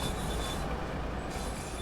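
A Class 150 train in Train Sim World 2's West Cornwall route rolls over track joints, a continuous rumbling rail noise with wheel squeal and a muffled patch in the middle, no voices.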